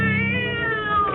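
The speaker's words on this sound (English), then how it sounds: "the cat screamed and leaped against the wall" A cat screams in a radio drama sound effect, a single sustained tonal yowl, loud and close, with no speech over it.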